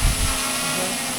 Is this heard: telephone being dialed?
no